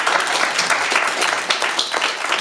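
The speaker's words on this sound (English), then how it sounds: "Round of applause for our 3 candidates." An audience at a city council ward debate in Hoboken breaks into steady, loud applause for the candidates, a dense wash of clapping throughout.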